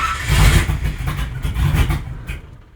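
Old truck engine long unused restarting and revving: a loud, close, rough rumble that swells and dips over a few seconds, then fades toward idle.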